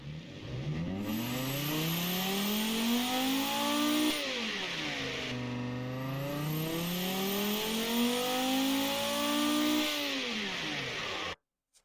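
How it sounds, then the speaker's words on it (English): A pickup truck engine in the video game BeamNG.drive revs up and down in long sweeping surges, pitch rising and falling repeatedly, loud and close, ending abruptly. "will produce a sound that most people wouldn't expect when a pickup truck rolls up next to them"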